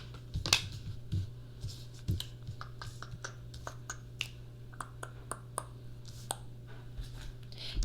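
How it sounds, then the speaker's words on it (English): Tarot cards being shuffled by hand, giving a series of soft, crisp clicks and riffles of varying rhythm, close and quiet against a low steady hum. "let's go ahead and start the shuffle."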